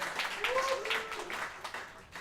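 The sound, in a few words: applause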